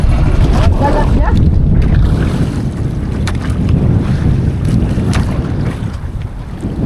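Strong wind roars across the microphone while big sea waves rush and slap around a boat off the Philippines, a constant loud churning with surges of waves.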